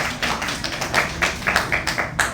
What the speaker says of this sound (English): Give your friend a clap.